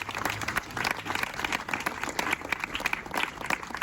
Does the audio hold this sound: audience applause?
yes